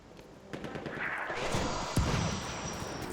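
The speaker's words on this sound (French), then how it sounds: "Eh ben ça tire sévère hein." Gunfire in the World War I shooter Battlefield 1 sounds as bursts and distant booms building over a few seconds, with one sharp close shot near the end, under faint game ambience.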